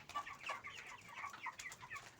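Crowded chickens cluck continuously in a battery cage, a dense, close chorus of short overlapping clucks with no talk.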